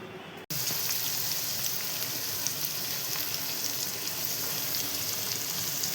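Onions hit a hot pan on a gas stove with a sudden loud sizzle that stays steady and crackling throughout, close and continuous with no voices.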